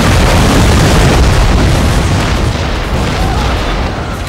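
Bomb saboteurs set off explosions in the game Shogun 2, producing a continuous, loud rumbling blast with crackling debris that slowly eases over a few seconds.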